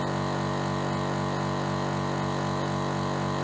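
A Mollar Black Panther AC1550BP-R 50-litre oilless air compressor runs near 8 bar with a constant, even mechanical hum and drone, steady in loudness throughout and heard alone without talk.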